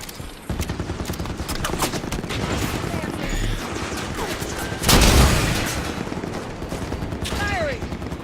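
A turret fires in the video game Halo 5 Guardians as a steady rapid stream of loud shots with a heavier blast midway, amid other battle noise and brief speech.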